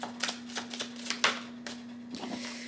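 Tarot cards shuffled and drawn, a run of quick papery riffles and flicks with one louder snap, close and alone over a faint steady hum.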